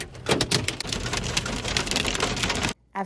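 Heavy rain from a storm near Custer State Park pounds a surface in a dense, loud, continuous patter with sharp drop impacts, cutting off abruptly near the end.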